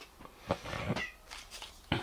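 A house cat lets out a few short meows close by, one after another with small pauses between, alone in a quiet room.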